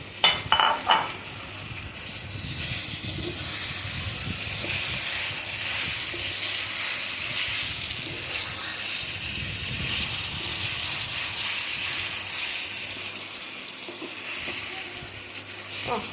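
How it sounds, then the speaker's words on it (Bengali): Chicken being stirred and fried in sauce in a pan, a constant sizzling hiss with soft scraping of a spatula, close and even throughout after a few clinks at the start. "নাড়াচাড়া করার পর মুরগিগুলো দিয়ে দেবো"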